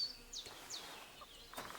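Chickens cluck and chirp in the medieval game Kingdom Come: Deliverance II, a few faint high calls with soft low rustling underneath and no talk.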